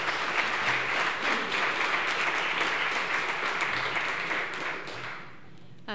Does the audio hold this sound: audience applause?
yes